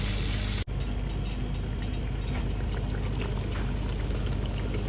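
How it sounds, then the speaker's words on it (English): Tomato puree going into a pot of onions while cooking Gambian chu, a steady sizzling, bubbling wash of liquid sound at close range throughout, with one brief dropout near the start and no talking. "So now you have to add your tomato puree into the onions and mix it."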